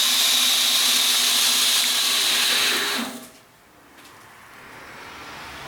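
A homemade 2x72 belt grinder on a heavy, roughly 500-pound machine runs with a steady, fairly quiet whine for about three seconds, then spins down, leaving only a faint low hum.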